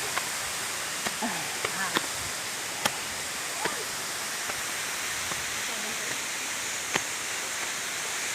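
Cold water flows on Mount Isarog in a steady, dense rush like a small waterfall, with scattered sharp clicks and splashes riding on top.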